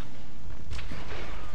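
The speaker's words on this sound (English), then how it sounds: "I'm not sure what they're shooting at" A single sharp blast of gunfire from a Star Wars Battlefront 2 battle on the Saleucami map, fairly distant and brief against low background game noise.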